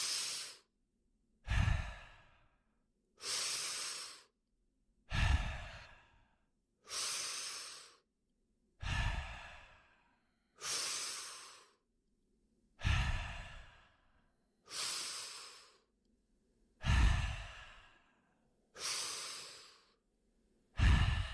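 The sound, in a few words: deep conscious breaths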